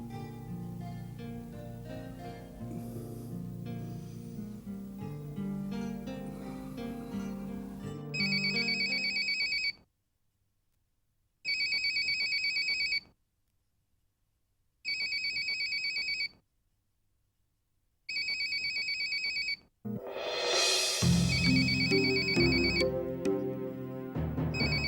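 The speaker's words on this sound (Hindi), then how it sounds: "किसका फोन है?" After music fades, a telephone rings in four evenly spaced electronic bursts separated by silence, loud and close, before music swells again.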